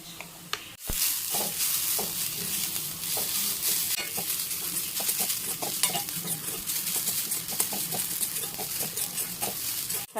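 Ridge gourd peel fries with turmeric, salt and chili. After a brief pause, a loud, busy sizzle starts, broken by frequent scraping stir strokes and clinks of a utensil on the pan.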